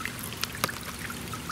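Water trickles and splashes softly in a small pool with toy ducks, with a few small sharp drips standing out over a gentle, continuous flow.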